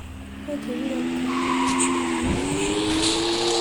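In the Super Bear Adventure video game, a car's tires squeal loudly in a skid before it drives off, the engine droning and shifting pitch as it pulls away under a voice talking.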